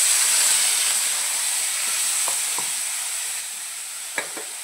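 Fenugreek greens with crushed peanut, garlic and green chili sizzling in a very hot kadhai, a loud steady hiss that gradually eases, with a few short scraping stirs near the end.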